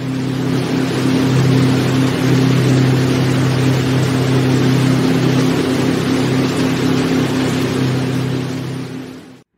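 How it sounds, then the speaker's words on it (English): A police boat engine drones steadily at close range, a loud low throbbing hum with a constant tone that fades out at the very end. "Police boat."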